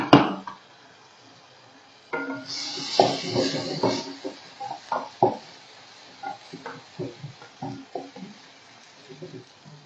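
Onions and garlic sautéing in a pan, with several bursts of stirring scrapes and clinks of a utensil against the pan over a soft background sizzle, heard close up with no talk.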